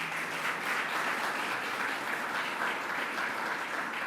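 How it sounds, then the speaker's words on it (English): An audience applauds a county executive at a governor's headquarters announcement, with steady, dense clapping that holds evenly through the whole stretch at moderate level, no voices over it. "Let's give our county executive a great round of applause."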